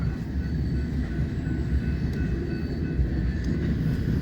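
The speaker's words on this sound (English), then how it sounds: "Unit train of ethanol heading south on the Sioux City sub." A loaded unit freight train hauling ethanol rolls past heading south on the Sioux City subdivision, a steady low rumble of rail cars with faint squeaks and clunks, fairly near and continuous, with no talking.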